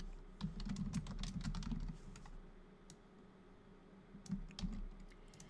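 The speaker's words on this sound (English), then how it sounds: "Sometimes I think I'm accidentally typing the same entry again" Rapid clicking of a computer keyboard, close and soft, in two busy bursts with a quieter stretch of sparse taps between them and no talk.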